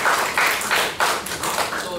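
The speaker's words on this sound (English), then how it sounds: "let's give a round of applause to this gentleman." Applause at a Toastmasters club meeting, with a modest group clapping in uneven bursts, a few hands distinct and close.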